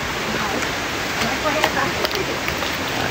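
Water rushes steadily along a natural year-round stream in rural Lào Cai, a close continuous wash with a few small splashes and brief faint voices over it.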